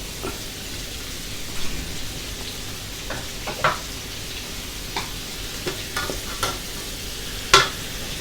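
Shrimp with oyster sauce stir-fried fast in a wok, a steady close sizzle broken by scattered scrapes and clatters of the spatula, one sharper knock near the end, with no talking.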